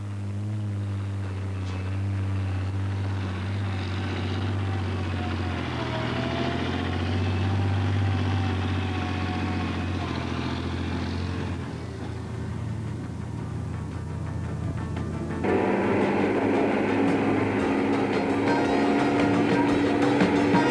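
A TB600 heavy transport vehicle grinds up a steep gradient over rough countryside, its engine droning loud and continuous, shifting to a harsher, louder roar partway through.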